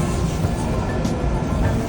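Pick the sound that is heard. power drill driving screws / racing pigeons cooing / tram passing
tram passing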